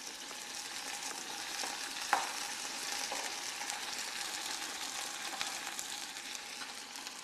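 Green chilies and pounded ginger fry in a pan for a sweet-and-sour tomato chutney, giving a quiet, even sizzle with a light clink of a utensil partway through.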